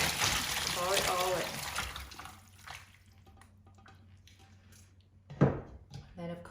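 Homemade vegetable stock made from vegetable scraps in an Instant Pot is poured out, giving a close liquid splash and trickle that fades to faint dribbles, then a brief clunk near the end.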